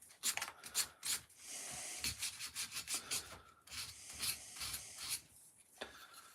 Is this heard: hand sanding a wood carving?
yes